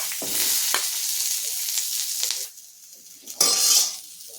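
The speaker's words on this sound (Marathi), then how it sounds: "कडे थोडंसं तेल घालायचं आहे चमचाभर आणि त्या एक मोठा कांदा भाजून घ्यायचा आपल्याला" A large onion fries in a spoonful of oil, crackling and sizzling steadily with scattered clinks of a utensil against the pan, fading briefly before a louder burst of sizzle.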